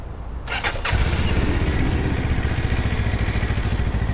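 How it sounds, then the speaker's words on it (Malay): A Moto Morini Calibro 700 motorcycle cranks briefly with a whirring starter, then fires up and settles into a loud, steady, throbbing idle close by, with no talking. "jom kita start tengok ini motor Morini Calibro 700"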